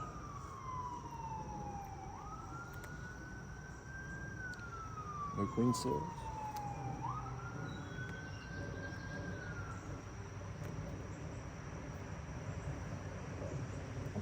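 A distant emergency vehicle siren wails in long rising and falling sweeps, faint over soft outdoor background during a backyard beehive inspection, with a brief spoken remark partway through.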